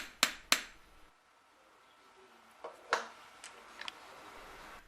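A hammer face taps a wire rivet on a piece of jewellery to flatten and smooth it. Two sharp, close metallic taps come first, then several lighter scattered taps after a pause.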